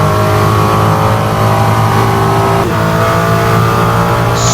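Ferrari 296 GT3 race car engine in a racing simulator game, a loud continuous high-revving drone with steady harmonics and a brief gear-shift dip midway, no talking over it.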